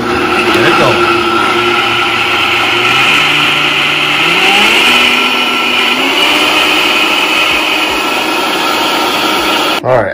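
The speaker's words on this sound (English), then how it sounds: "Up to the Vitamix blender." A Vitamix blender grinding a smoothie sweetened with organic honey, with a loud steady motor whine that climbs in pitch as it spins up, running close and continuously before cutting off at the end.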